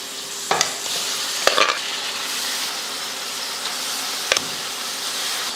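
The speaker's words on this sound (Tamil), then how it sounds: "இப்போ இந்த மசாலா கூட நல்லா ஒரு 2 நிமிஷத்துக்கு நல்லா வதக்கி விட்டுறலாம்" Cooked intestines sauté with masala in oil in a pan, a continuous close sizzle with a few sharp scraping strokes of a spatula against the pan.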